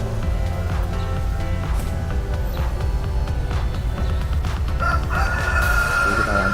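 A rooster crows at a chicken contest among a busy outdoor din of other fowl clucking and background noise, the crowing moderately distant rather than right up close.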